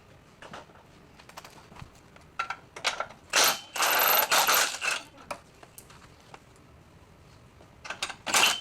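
A ratchet wrench removes doubled bolts and nuts during a camshaft swap on a Dodge Challenger, with a series of quick clicking pawl bursts and metallic rattles, close and sharp, separated by short quiet gaps.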